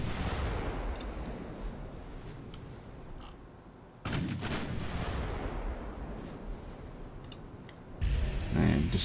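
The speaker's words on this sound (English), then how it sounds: "Right, main guns on the battleship." Battleship main guns firing in the naval game Ultimate Admiral Dreadnoughts: heavy booming blasts with a dense rumbling roar beneath, a sharp report near the middle and another near the end, with light clicking throughout.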